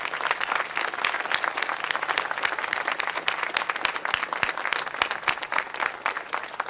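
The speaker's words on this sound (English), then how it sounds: "let's give our students from our fire academy a round of applause, please" An audience at a 9/11 observance ceremony gives a round of applause for fire academy students, with sustained, even clapping from many hands heard at a moderate distance throughout.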